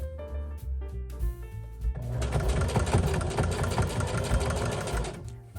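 A sewing machine stitches across a zipper while a small zippered make-up pouch is sewn, its needle running in a fast, steady mechanical rattle after a slower start of uneven thumps and hand-turned clicks.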